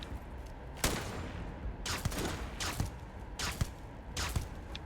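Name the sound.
gunfire from enemies shooting at player in Starfield video game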